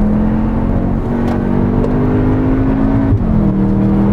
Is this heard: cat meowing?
no